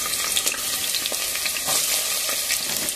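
Chopped onions and green chillies sizzle and crackle steadily in hot oil, a continuous close frying hiss with occasional sharper pops and no talking.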